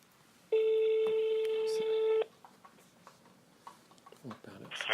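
A single steady telephone ringing tone sounds for a call. It is close and clear, then gives way to quieter background noise and faint voices.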